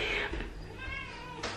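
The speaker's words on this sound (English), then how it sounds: "Can you hear the cat?" A single drawn-out cat meow, close and fairly soft, rising and falling over about a second.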